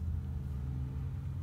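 A car rumbles steadily close by on a street, a loud, continuous low engine and road drone with no break throughout.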